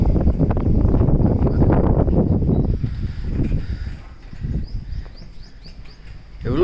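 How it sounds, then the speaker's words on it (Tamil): Strong wind buffets the microphone outdoors in Dharapuram, a heavy low rumble for the first few seconds that eases into gustier bursts, with faint bird chirps above. "செம்ம காத்தடிக்குது"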